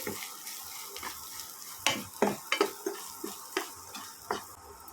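A spoon stirs coriander powder into a frying mixture in a pan for a country-chicken egg fry, giving several scraping strokes and clinks over a soft sizzle, close and fairly quiet.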